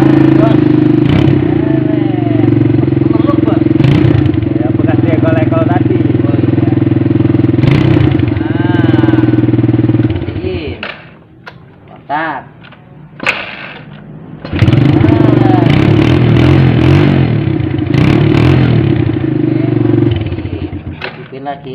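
A loud Supra motorcycle engine with an ignition fault runs at a steady idle, briefly dropping and sputtering midway before roaring back, with clattering and voices over it.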